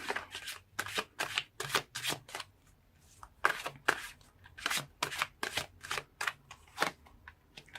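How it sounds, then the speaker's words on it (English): Tarot cards being shuffled and pulled during a love reading, a steady run of crisp riffling bursts at close range with short pauses between them, quiet overall and with no talking. "So let's pull more cards and see."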